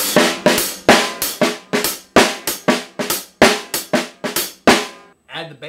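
A techno-style drum groove with hi-hat hits, quiet ghost notes and a hard snare, a fast evenly repeating pattern of loud, crisp, closely miked strikes with no talking.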